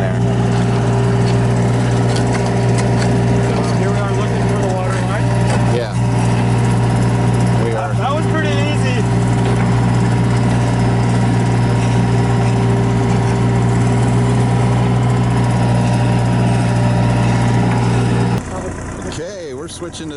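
Engine-powered auger boring holes for solar poles, a loud steady engine drone with a deep low hum running nearly throughout, people talking over it, then the engine dropping off near the end.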